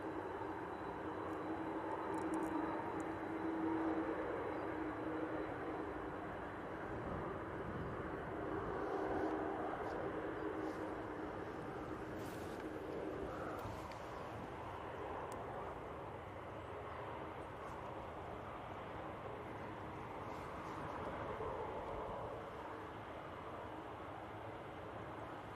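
A Ryanair airliner arriving from Porto at Manchester Airport, a faint, distant, steady engine rumble and whine that drones on throughout, with no talk over it.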